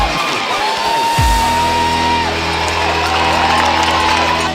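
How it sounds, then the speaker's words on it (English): Crowd noise roars along the London Marathon course, a dense sustained swell of cheering and whooping from roadside spectators, steady and loud throughout with a sharp boom near the start and a faint whistle-like tone riding above. "this is where the crowd really started to roar"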